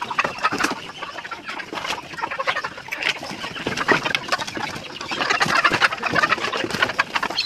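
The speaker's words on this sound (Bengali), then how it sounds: "এগুলো হচ্ছে ম্যাক্সিমাম ডিম পাড়া মুরগি, দেশি।" Desi laying hens cluck and chatter together at close range on a poultry farm, a steady dense flock sound with overlapping calls that grows busier toward the end.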